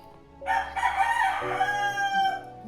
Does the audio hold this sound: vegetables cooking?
no